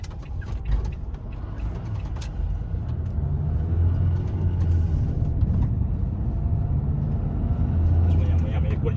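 A car passes on a highway, a steady low road rumble and engine drone that swells slightly as it goes by, heard continuously outdoors with traffic noise throughout.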